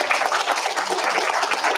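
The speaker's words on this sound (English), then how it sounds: "Give them all a lot of applause." Audience applause at an annual award ceremony dinner, a short steady burst of dense clapping from a crowd, fairly loud and without talk.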